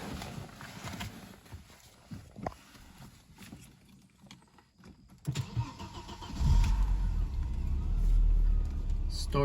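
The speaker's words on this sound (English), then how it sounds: "Just wanted to do a cold start video." A car sitting overnight with a cold engine is started from cold; after quieter rustling and handling sounds, the engine catches and settles into a loud, steady idle close by.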